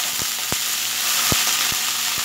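Meat for pan kebab searing in a preheated frying pan, giving a loud, steady hissing sizzle with a few sharp knocks and taps as it is moved, close and with no talking.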